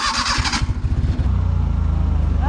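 A Maruti car engine fitted in a jeep cranks and starts, then settles into a loud, close, steady idle with a throbbing rhythm.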